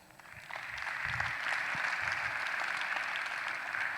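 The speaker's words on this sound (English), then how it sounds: "give yourselves a very big round of applause" An audience at a session applauds itself: clapping swells in after half a second and holds at a moderate, fairly distant level, a steady wash of hands to the end.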